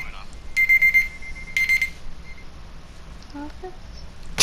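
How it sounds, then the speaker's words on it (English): An alarm going off in a room, two bursts of rapid shrill beeping, loud and close, followed by quieter chirps under faint background. "That's my alarm going off."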